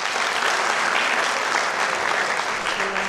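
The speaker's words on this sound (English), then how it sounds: "Please give a huge round of applause for Dr. Naila Siddiqui Kamal." A conference audience gives a speaker loud, sustained applause, the clapping thick and even from start to finish.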